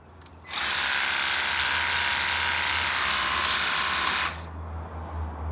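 A steady, high-pitched motorized whir with hissing spray from a Lidl Parkside cordless pressure washer cleaning moss off a surface runs for several seconds, then cuts off, leaving a low hum behind.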